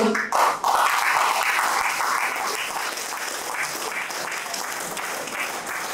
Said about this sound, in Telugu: ఒకసారి ఒక క్లాప్ కొట్టండి